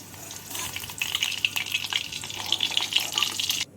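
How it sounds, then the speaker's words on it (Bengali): Paneer pieces fry in hot oil with a close, lively crackle of rapid pops and spits that stays busy and fairly loud throughout. "বাকি পনিরগুলোকেও একইভাবে ভেজে নেব"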